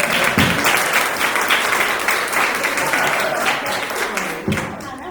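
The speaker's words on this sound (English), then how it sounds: "Please, let's have a round of applause for everybody." Audience at a school board candidates forum bursts into sustained applause, a thick, even roar of many clapping hands with a couple of heavier thumps, lasting the whole stretch.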